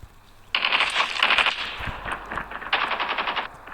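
Rapid automatic gunfire from a powerful weapon in the Call of Duty video game, two loud sustained bursts of fast rattling shots separated by a brief gap, close and dominant.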